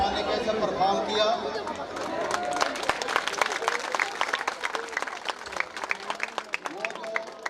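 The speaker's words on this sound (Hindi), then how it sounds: "जरा भरपूर तालियां बजाएं आर्टिस्टों के लिए।" An audience at a 14 August Independence Day arts program by the Talagang Arts Society applauds a performer. Voices and crowd chatter come first, then a long burst of many sharp hand claps builds and carries on.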